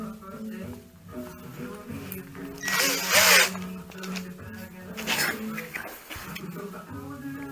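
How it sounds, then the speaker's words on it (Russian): A small drill bit boring a hole while a mousetrap is being built, giving a steady whirring drone through the whole stretch that swells into two louder surges, with a voice talking over it. "возьмем сверлышко такое"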